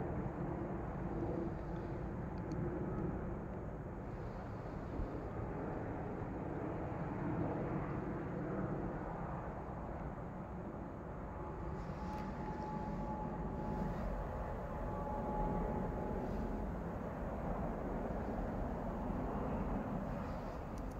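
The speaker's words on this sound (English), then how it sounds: "How low this fucking airplane is." A low-flying airplane passing overhead at night, a steady dark engine rumble and roar that holds evenly for about twenty seconds without any voices.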